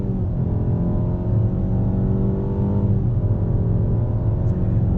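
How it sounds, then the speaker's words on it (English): A Nissan Altima AWD engine with a CVT drones steadily as the throttle is lightly blipped, a continuous loud rumble with a small dip and swell in pitch partway through, heard alone. "Just blipping the throttle a little bit?"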